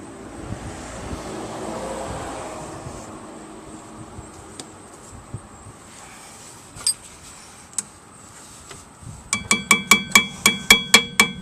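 Quiet workshop ambience with scattered light taps, then a quick run of sharp metallic hammer strikes on rear brake clips of a Saab 9-3 near the end.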